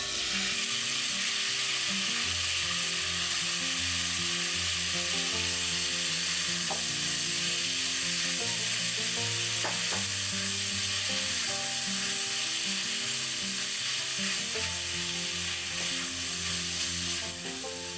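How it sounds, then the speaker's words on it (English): Marinated ingredients sautéing in sesame oil in a pan over medium-high heat, a steady close sizzle with occasional stirring scrapes running continuously throughout. "Sauté the marinated stuff thoroughly in sesame oil over medium-high heat for 2 to 3 minutes"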